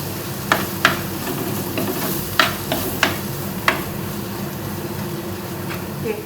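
Fish curry masala with chili powder and pepper powder sautéing in a pan, a constant close sizzle broken by several sharp scraping strokes of a spoon.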